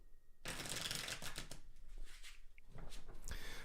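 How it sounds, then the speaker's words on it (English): Tarot cards are shuffled close up in a steady run of crisp riffling and flapping bursts, quiet overall and without any speech. "So let's shuffle 3 times."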